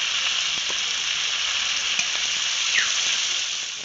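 Chopped onion, garlic and green chili hit hot oil tempered with nigella seeds, giving a loud, even, hissing sizzle that holds steady throughout and eases off slightly at the end.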